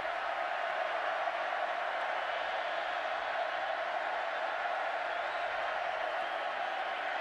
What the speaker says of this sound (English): Crowd knows it. Getting loud here in Waco.